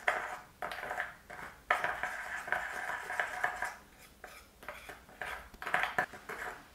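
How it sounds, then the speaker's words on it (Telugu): A spoon mixes Colgate toothpaste with lemon juice in a small bowl, scraping and clinking in short, uneven bursts at close range with brief pauses between strokes. "అండ్ లెమన్ జ్యూస్ ఇలా ఈ మూడింటి మిశ్రమాన్ని మిక్స్ చేసుకోవాలి"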